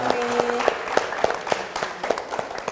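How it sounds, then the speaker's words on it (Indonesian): Sparse, scattered clapping from a small audience at a local government office inauguration event in Yogyakarta, with distinct individual claps under a faint background tone. "kita minta tepuk tangan untuk panjenengan semua yang hari ini sudah rawuh di sini"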